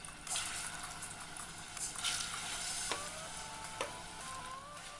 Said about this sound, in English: I'm going to fry the others.